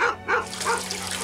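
A dog barks in a few short, rhythmic bow-wow bursts, fairly close and clear, in a 31 minutos episode scene.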